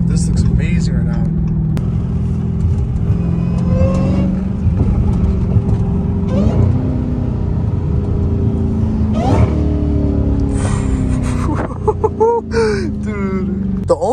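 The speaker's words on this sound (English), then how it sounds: "The only thing I could say that competes with a supercharger is like a Supra." Dodge Hellcat Redeye with its supercharger whining as it drives, a steady rumbling engine note with rising and falling whine layered throughout, close and loud, with people talking over it.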